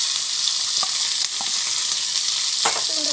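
Mustard, cumin and fenugreek seeds sizzle in hot oil, a loud, steady, close hiss that holds for about three seconds, with a few faint pops and a soft scrape of stirring near the end.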